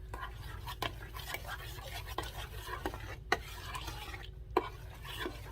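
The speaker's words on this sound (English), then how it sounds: "now we are going to cook this on medium heat until it is a jam consistency" A big batch of pineapple pear jam being stirred in a pot over medium heat, with a continuous soft bubbling and frequent sharp clicks and scrapes of a utensil against the pan, close and fairly quiet.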